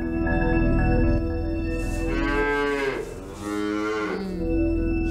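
A carabao, a water buffalo, in El Nido, Palawan gives a long, loud, close moo that rises in pitch, pauses, then returns, over a steady background hum.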